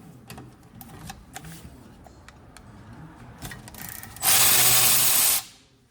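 A hand ratchet clicks in short bursts while loosening the 13 mm caliper bolts on a Ford F-150 rear brake, followed by a loud, steady rasping burst near the end.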